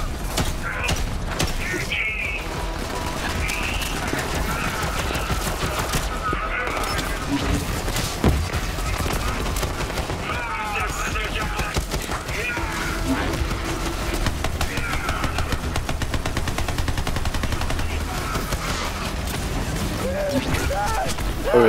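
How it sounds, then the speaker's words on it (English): Gunfire in the Borderlands video game, rapid bursts and repeated shots crackling over continuous game noise, with voices talking in places. "Wait, she's shooting a gun."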